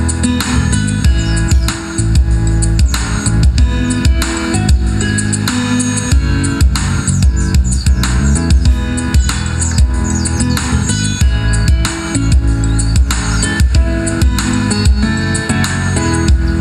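Pleci white-eye birds chirp and tweet loudly and continuously, with rapid high-pitched calls overlapping in a dense, nearby chorus and no talking.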